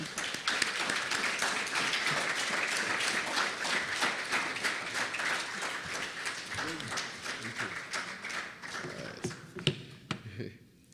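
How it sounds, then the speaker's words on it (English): An audience claps steadily at the OASYS youth project launch in Saint Kitts and Nevis, a dense sustained round of applause that thins and fades with a few last claps at the end. "Please give a warm round of applause for Honorable Dr. Terence Drew."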